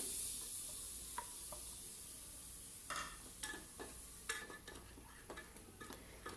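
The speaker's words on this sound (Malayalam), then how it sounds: "ഇനി ഇതെല്ലാം കൂടി നന്നായിട്ട് മിക്സ് ചെയ്യാം" A spoon stirs tomatoes into mutton masala in a pan, giving faint scraping clicks and taps over a low, steady sizzle, quiet and close.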